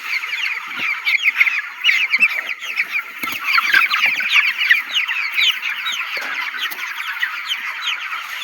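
Many chickens cluck and chatter together in a busy, continuous flock sound on a poultry farm, close and fairly loud, with no talking.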